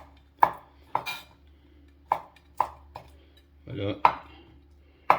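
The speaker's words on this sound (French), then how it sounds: "Et là, on va se passer, on va hacher." A knife chops boiled whelks flat on a cutting board for a tartare with aioli: a handful of sharp, close knocks at an uneven pace, with a brief spoken word in between.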